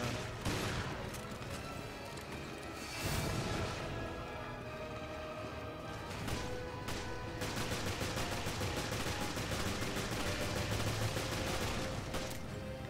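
Shotgun blasts fired in the survival-horror game Resident Evil Revelations, several loud broadband bursts over a dense, continuous layer of game noise and effects.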